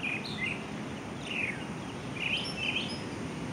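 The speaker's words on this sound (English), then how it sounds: "get a sound of those birds chirping" Small birds chirp in short, high bright bursts on a beach morning, scattered over a soft steady background wash, several calls overlapping at a moderate distance.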